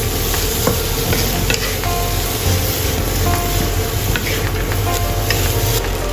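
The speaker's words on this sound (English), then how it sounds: "Add yam beans sliced and stir fry until aromatic." Sliced yam beans being stir-fried in a hot pan, a continuous close sizzle with scraping and clicking spatula strokes throughout.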